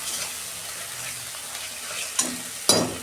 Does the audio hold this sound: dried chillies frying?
yes